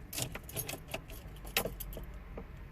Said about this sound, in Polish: Wkładam kluczyk, uruchamiam zapłon